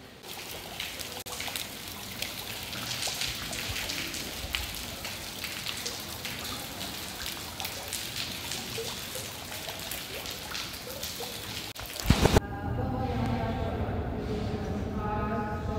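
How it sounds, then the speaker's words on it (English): Rain falls in Portugal as a dense, steady hiss of drops pattering on surfaces, broken near the end by a sharp bump and a quieter stretch with faint voices. "the rain has definitely picked up"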